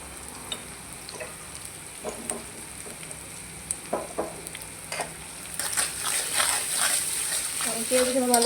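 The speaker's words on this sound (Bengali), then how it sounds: "পেঁয়াজগুলো ভালো করে ভেজে নিব।" Onions sizzle softly in a pan, with occasional utensil taps at first, then a louder burst of frying and stirring scrapes toward the end; no speech is heard.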